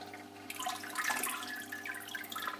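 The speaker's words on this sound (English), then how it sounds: "you can get a really fast flow, or slow it right down to a trickle" Water from the pump of a homemade all-grain beer brewing machine, slowed to a dribbling trickle, close and continuous with splashy drips.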